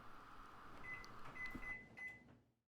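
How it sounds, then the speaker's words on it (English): A microwave oven hums steadily while heating about 3 ounces of lactose-free milk, a faint whine running under the drone before it cuts off abruptly. "I want to heat this up in the microwave for about 30 seconds"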